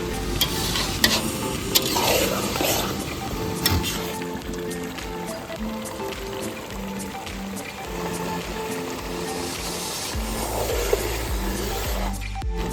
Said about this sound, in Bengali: এবার ম্যারিনেট করা মাংসটা দিয়ে দিচ্ছি।